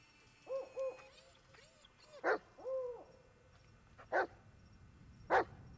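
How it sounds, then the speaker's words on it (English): A dog barks in the woods. Three sharp, separate barks come a second or two apart at moderate distance, preceded by softer whining, hoot-like calls in a quiet setting. "Stop barking."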